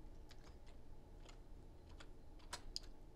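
Computer keyboard typing in quiet, sparse keystrokes, a few separate clicks spread over a few seconds with a faint background hum.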